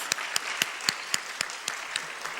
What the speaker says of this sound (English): Let's give her a very warm applause.